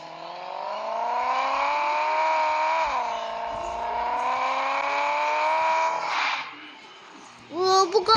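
A car engine revs as the accelerator is pressed, a sustained rising whine that holds steady, dips, then fades before a few short sharp blips of revving at the end.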